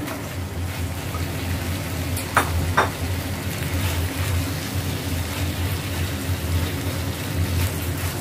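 Rohu fish pieces go into a pan of frying tomato sauce, giving a steady, fairly loud sizzle with a couple of brief splashy knocks as they land.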